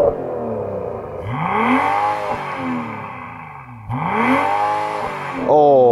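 A BMW M340i sedan's straight-six engine revs up twice from idle in sports mode while stationary, rising and falling in pitch with a smooth, close, loud mechanical roar.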